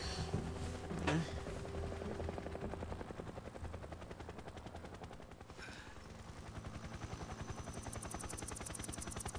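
Several helicopters in a Metal Gear Solid 3 cutscene keep up a close, continuous rotor throb with a sharp burst near the start and a pulsing chop that grows more distinct later, layered over game music.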